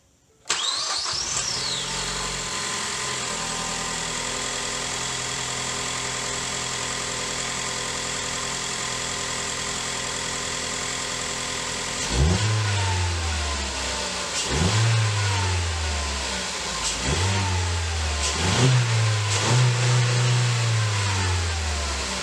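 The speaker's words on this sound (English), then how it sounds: "We're going to go start the car." A 2012 Ford Focus with direct injection, just after intake valve cleaning, cranks and catches, idles steadily, then is revved in a series of rising and falling bursts, loud and close with no talking.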